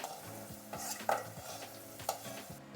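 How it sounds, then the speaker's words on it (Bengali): Long beans frying in hot oil in a Bengali kitchen, a steady soft sizzle with stirring scrapes and a couple of sharp utensil clinks against the pan. "ওই তেলেই আমি বরবটি কটাও ভেজে নেব।"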